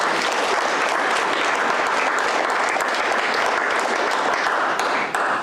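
Steady, loud applause from a gala audience, a dense wash of many hands clapping continuously throughout with no gaps.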